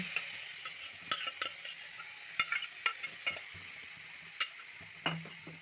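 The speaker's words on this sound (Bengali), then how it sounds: "এবার সেদ্ধ করে রাখা শাকটা দিয়ে দিলাম।" Boiled mustard greens go into a frying pan with ground spices, coriander powder and red chilli powder, giving a soft, steady sizzle broken by sharp spatula scrapes and clicks from stirring, close by, with no talking.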